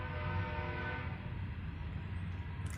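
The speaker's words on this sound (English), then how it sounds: "I'll do the best I can to show you this train" A train rumbles past at a distance, a low steady roar with a faint horn-like tone fading out toward the end.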